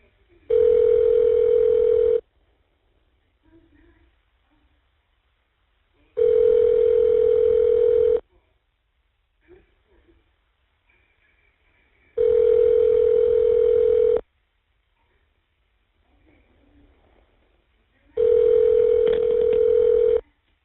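On an outgoing jail phone call, a steady electronic ringback tone repeats four times, each burst about two seconds long with roughly four seconds of near-silence between.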